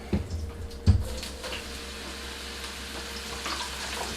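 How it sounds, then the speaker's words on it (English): Mushrooms hitting a hot frying pan for stuffed cheeseburgers, giving a low, steady sizzle with a couple of sharp clunks and spatters near the start, then a continuous frying hiss that swells slightly at the end. "Got a little bit of sizzle."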